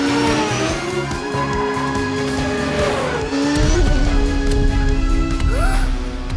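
A cartoon red race car revs and roars at full throttle, tires squealing and skidding, the engine tone sliding up and down over a steady, loud, close drone with no voices.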